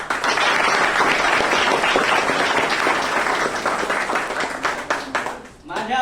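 An audience at a school function in honour of teachers breaks into a loud, sustained round of clapping that thins out toward the end, with voices speaking through it.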